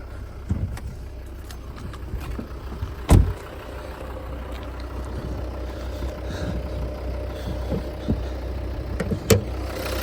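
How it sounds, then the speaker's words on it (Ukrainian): A 2014 Volvo V60 D4 five-cylinder diesel idles steadily close by, a low, even rumble with a couple of brief knocks or thumps. "Як працює двигун."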